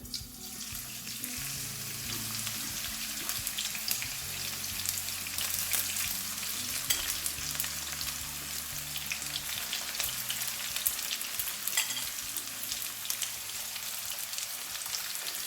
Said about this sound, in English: oil is get hot, I'm gonna put onion in there to fry